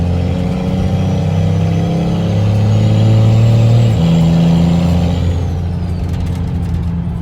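Turbocharged race truck accelerating at quarter throttle on local streets, a loud, close engine drone that rises in pitch through the gears with a faint turbo whistle above it.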